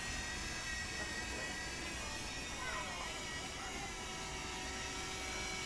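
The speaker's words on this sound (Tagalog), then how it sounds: "papauwi natin yung drone. Nandito na siya" A DJI Flip drone flies back in to land, its rotors making a constant, fairly close buzzing whine that holds at an even level throughout.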